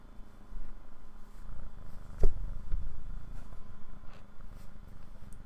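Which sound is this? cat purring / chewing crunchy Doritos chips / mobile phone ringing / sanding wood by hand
cat purring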